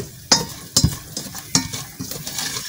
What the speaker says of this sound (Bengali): বেশ কিছুক্ষণ এভাবে নেড়ে চেড়ে পেঁয়াজ কুচি, কাঁচামরিচ কুচি, রসুন কুচি লালচে বর্ণের বা বাদামি বর্ণের করে নেই